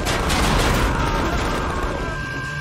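A rocket explodes in Tales from the Borderlands, a loud, broad crashing blast with crackling debris that fills the moment and then slowly fades.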